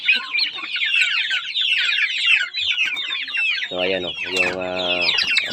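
Young chicks, some with trimmed beaks after pecking and cannibalism, cheep and cluck continuously in a brooder, with brief harmonic calls near the end and a short stretch of talk partway through.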